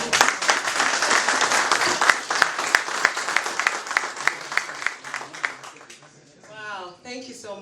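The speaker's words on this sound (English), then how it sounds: "I think we owe him another round of applause" An audience at a Startup Grind Lusaka talk applauds the speaker with sustained, lively clapping nearby that fades after several seconds, then a voice starts speaking.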